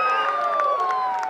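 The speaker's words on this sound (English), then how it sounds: "Players are cheering" Rugby union players cheer and shout together on the field during a club match, a brief, loud burst of crowded voices with a few sustained tones riding over it.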